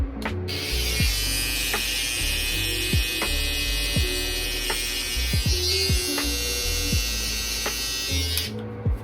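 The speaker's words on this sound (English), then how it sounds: "Now I'm going to take my clipper" Electric hair clipper buzzing steadily and close during a self-cut taper fade, with a constant high whine broken by repeated soft knocks and strokes as the blades pass through the hair.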